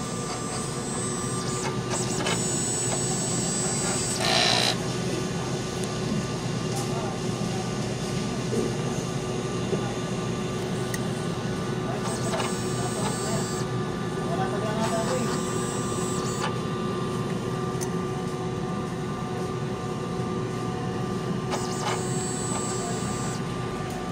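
A printer hums and whirs steadily through a cleaning cycle, with periodic higher mechanical whines and a brief clunk near the start.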